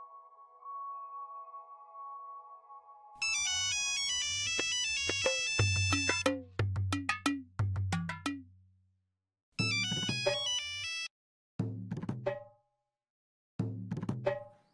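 A mobile phone rings and goes unanswered, its electronic ringtone repeating in bursts of bright chiming tones separated by short silences after a soft steady hum at the start.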